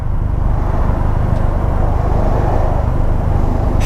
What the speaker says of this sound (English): You hear the engine and you know you need to shift.